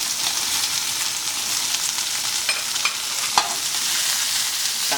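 Shrimp and garlic hit a hot, lightly smoking oiled pan and sizzle steadily and loudly, with a few sharp clinks and scrapes of the pan scattered through the crackle.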